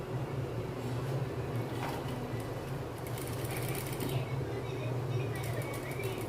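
Sewing machine stitching a silk skirt for a young girl, a steady fast mechanical whir running continuously at close range with a few brief louder bursts of stitching.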